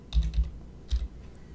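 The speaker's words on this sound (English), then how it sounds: "so type in those 3 numbers." Key presses on a computer keyboard as a three-digit card security code is entered: a quick cluster of taps, a pause, then a couple more, close and fairly quiet.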